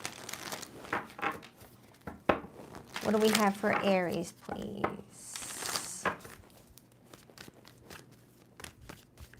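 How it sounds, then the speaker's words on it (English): Tarot cards are shuffled in quick bursts of papery flicks and rustles, close and crisp, interleaved with someone speaking between the shuffles. "2 more shuffles for Aries."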